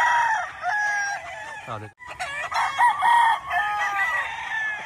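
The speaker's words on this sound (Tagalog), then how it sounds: "Ang gandang broodstag ito." Roosters and hens at a gamefowl farm in Maragondon, Cavite crow and cluck close by, with several overlapping calls and a brief pause midway; a voice briefly speaks.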